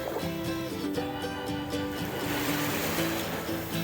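Gentle, steady wash of calm Black Sea waves at Odesa with a continuous soft roar and low tonal hum, even in level throughout, no voices.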